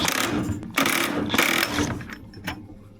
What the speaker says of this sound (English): Pulling the flywheel, SLP flywheel puller.